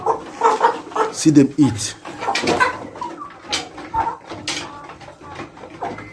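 Cobb 500 and Ross 308 broiler parent stock cocks and hens on a breeding farm cluck and call nearby, mostly under a man's steady speech.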